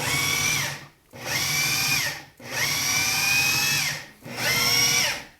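Food processor pulsing a salmon burger mixture into a paste: four loud, close motor bursts of roughly a second each, separated by brief pauses, with the whirring pitch rising and falling as each pulse starts and stops.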